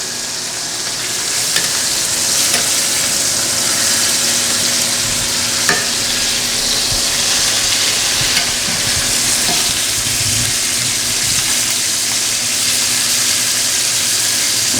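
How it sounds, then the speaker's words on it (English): Meat seared in a hot pan, giving a loud, steady sizzle and hiss throughout with occasional scrapes and clinks of stirring, close and with no talking. "Do a little searing, a little side sear."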